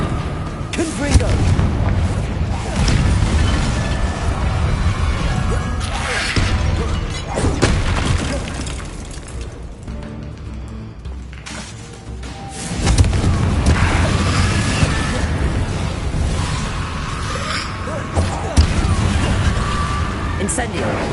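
Heavy fiery blasts from the Confringo spell in Hogwarts Legacy boom repeatedly over a dense game soundscape, loud and close, with a brief lull midway before the explosions resume.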